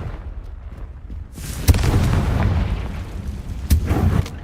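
Confringo fire spell cast in the Hogwarts Legacy video game, a sudden deep boom followed by rumbling blasts, with a second sharp explosion a couple of seconds later.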